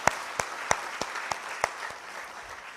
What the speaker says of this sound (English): once again, I will applaud for you.